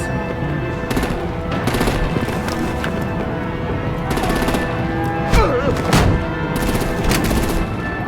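Rapid artillery and gunfire crackle in dense bursts throughout a Batman video game battle, with loud sharp reports over a constant rumbling din.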